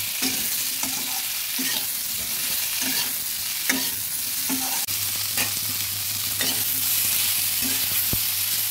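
Cauliflower and potatoes stir-frying in a pan with turmeric and salt, a constant loud sizzle punctuated by rhythmic spatula scrapes every second or so, close up, with a low steady hum joining midway and no talking.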